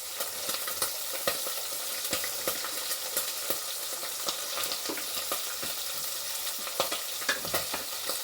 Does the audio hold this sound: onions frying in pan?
yes